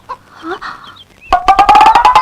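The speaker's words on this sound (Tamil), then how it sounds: "பொன்னரசி, அந்த கோழி எல்லாம் திறந்து விடுமா?" Chickens being let out of their coop, with soft bird calls first, then a loud run of rapid, rhythmic clucking close by.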